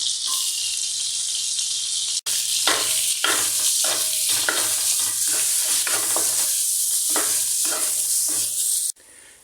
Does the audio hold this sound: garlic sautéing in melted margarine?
yes